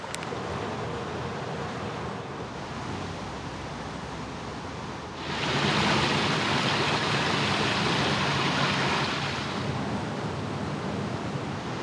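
Water rushes down small rocky cascades in Girrakool National Park, NSW: a steady broadband roar that swells louder and brighter about halfway through and holds nearby, with no voices.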